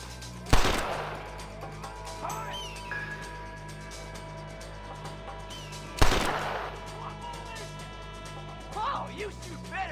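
Two loud, sharp gunshots from the video game Red Dead Redemption, several seconds apart, each with a short echoing tail, amid game characters talking and quieter background sounds.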